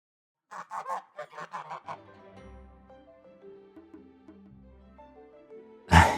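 A goose honks in a run of about nine loud, rhythmic calls, then gives way to a quieter musical underscore with a sharp burst at the end.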